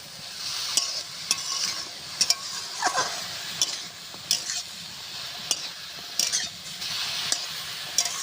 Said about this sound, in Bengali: এইভাবে আস্তে আস্তে আস্তে আস্তে সুন্দর করে আউড়ে নেব।